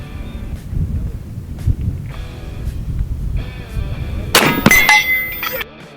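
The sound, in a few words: 58 cal rifle shot hitting steel target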